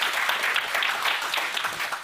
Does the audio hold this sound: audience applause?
yes